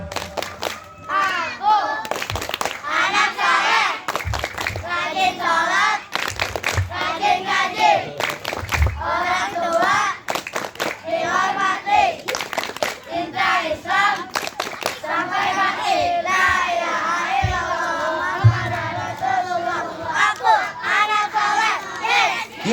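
A group of children claps the rhythmic 'tepuk anak soleh' chant at a religious lecture, sharp patterned hand claps mixed with loud chanting and shouted voices, close and energetic throughout.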